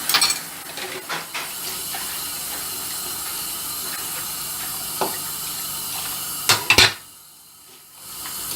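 Running water splashes steadily while rinsing dishes and a cooking pot in a sink, with a few clinks of plates and pans, then the flow stops near the end.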